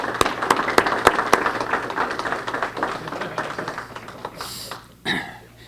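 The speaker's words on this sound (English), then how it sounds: "let's give him a big round of applause" Applause from a lecture audience, a few sharp claps up front swelling into a steady round of clapping that fades toward the end, followed by a brief rustle.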